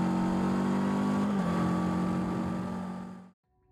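A Macbor Eight Mile 500 SCR motorcycle on a test track, its engine holding a steady loud drone that shifts pitch once, then fades and cuts off abruptly near the end.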